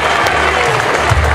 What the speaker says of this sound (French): Les applaudissements pour elle, s'il vous plaît.